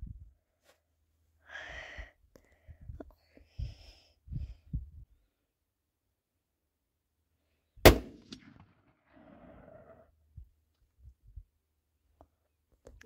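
A single sharp, loud gunshot at a target during hunting practice cracks out midway and decays quickly, set among long quiet stretches with faint shuffling and breathing nearby.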